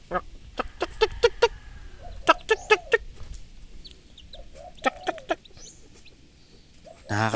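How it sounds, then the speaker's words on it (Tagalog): A mother hen calls her chicks with bursts of short, quick clucks that come and go in clusters, fairly close, over a quiet outdoor background. "kung paano magtawag yung inahing manok sa kanyang mga sisiw"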